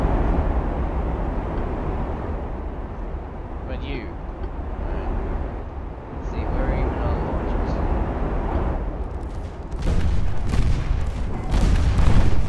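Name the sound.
torpedo fire and explosions in a naval video game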